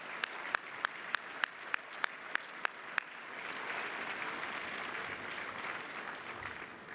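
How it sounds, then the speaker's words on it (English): An outdoor audience at a parade ground dedication gives a round of applause, opening with a few sharp, evenly spaced claps that swell into a steady, dense wash of clapping that carries on to the end. "So please give them all a round of applause."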